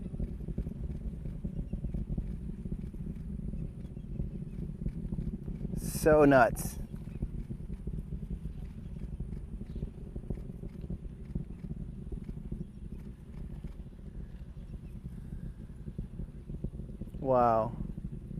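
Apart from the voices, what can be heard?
SpaceX Falcon Heavy rocket Merlin engines roaring at launch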